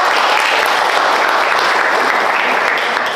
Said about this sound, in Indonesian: Silakan berikan aplaus untuk masing-masing kelompok